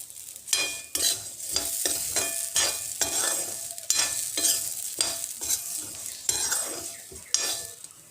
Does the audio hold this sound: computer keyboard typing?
no